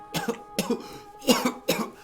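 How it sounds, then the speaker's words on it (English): Four harsh, wet coughs in close succession, each a short rough burst, near and fairly loud with brief pauses between. "coughing in a way that's a bit alarming"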